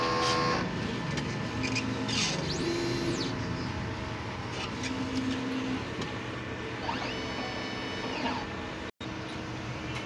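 A DTF printer runs a nozzle check, its print head carriage gliding back and forth with soft whirring sweeps and faint mechanical tones over a constant machine hum, with a brief click near the end.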